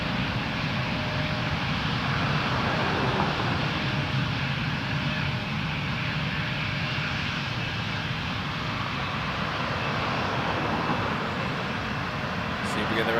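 An Embraer 170 regional jet taking off at Toronto Pearson Airport, a steady broad engine roar held loud and constant throughout, with no breaks.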